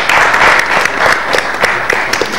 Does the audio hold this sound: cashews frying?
no